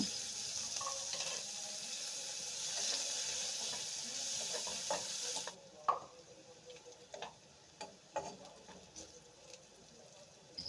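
Onions frying in a pan with cumin for a Bengali rui fish curry, a hissing sizzle for the first half, then quieter scattered pops, ticks and stirring clinks close by.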